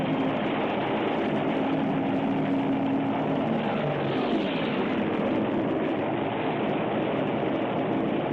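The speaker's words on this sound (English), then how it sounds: "Torpedo bombers." WWII torpedo bomber aircraft engines roar in the Battlezone video game, a loud, steady droning growl that holds constant throughout with a slight pitch shift midway, no voices.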